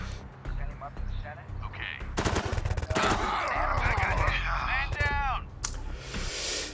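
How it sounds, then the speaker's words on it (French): Gunfire from the tactical game Door Kickers cracks out in several sharp bursts, shooting an enemy, with ringing effects and low rumble between shots, fairly loud throughout. "Je le tire."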